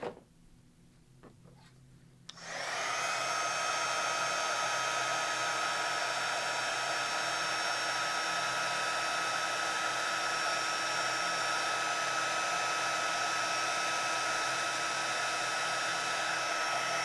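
Heat gun blowing steadily to melt clear embossing powder on a Christmas card, a loud, continuous airy whoosh that switches on abruptly after a couple of seconds of near silence and runs unbroken.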